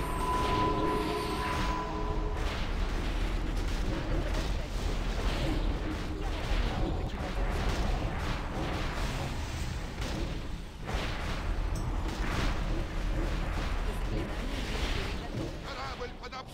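Artillery cannons fire on a ship during a video game battle, with heavy, rumbling booms and blasts repeating continuously under the players' talk.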